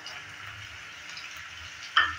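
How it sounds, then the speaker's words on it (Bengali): Potatoes sizzle gently in a pan, a quiet steady frying hiss with a brief louder scrape or clatter near the end. "আলুটা একটু হালকা ভাজা ভাজা হয়ে গেছে"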